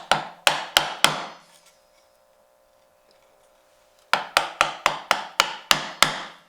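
A mallet strikes a chisel cutting wood for a hand-cut dovetail: four sharp, close blows, a quiet pause, then a steady run of about nine more evenly spaced knocks.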